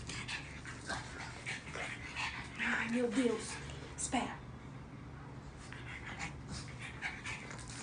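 Two dogs pant and whimper close by, with soft whining and quick breaths over steady background noise, while someone speaks briefly over them.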